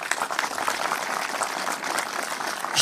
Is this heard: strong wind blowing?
no